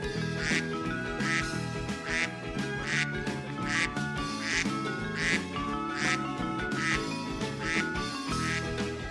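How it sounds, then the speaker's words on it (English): A white goose near a pond gives loud, rhythmic honks, repeating roughly every second over a busy, full background with no voices. "look at the white goose coming for a swim in the pond"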